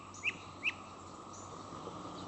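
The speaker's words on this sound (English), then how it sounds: "You hear that bird? It's like there's a tree like right behind you, and it's like chirping its butt off." A bird chirps from a tree just behind, two sharp, bright tweets close together near the start, then a fainter call, over a quiet outdoor background.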